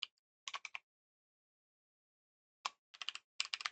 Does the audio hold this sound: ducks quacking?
no